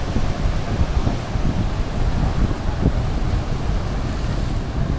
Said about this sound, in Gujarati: જુઓ ને આવ્યો મોજો આવ્યો.